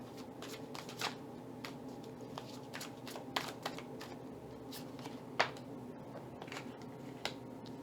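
Large tarot cards, bigger than a small Rider-Waite deck, shuffled steadily by hand with repeated soft riffles and crisp snaps, close but quiet, with no speech.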